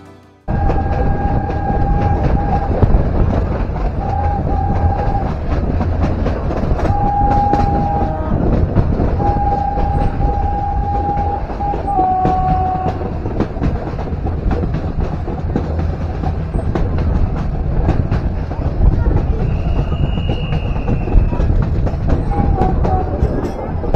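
A train running at speed through Gir forest, a heavy continuous rumble and rattle of wagons heard from on board, with a horn sounding several times in short blasts early on and a brief higher whistle later.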